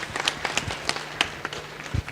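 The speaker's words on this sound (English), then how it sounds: "Another round of applause for our guest, Madam Yawa Hansen" Scattered hand claps break out for a guest speaker, Madam Yawa Hansen, at a public service fellowship event in Kenya: sparse, uneven claps from a small audience, fairly close, with no talking.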